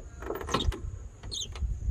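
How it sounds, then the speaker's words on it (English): Door of a Jeep XJ being opened, giving a few short cracking and popping clicks from worn hinge hardware, fairly close and moderately loud over quiet background. "That cracking and popping from the door."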